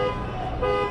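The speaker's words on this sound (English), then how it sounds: "Right here, the car alarm started going off." Outside, a car alarm sounds in a short, moderately loud steady tone lasting about a second, with a slight dip midway and no talking.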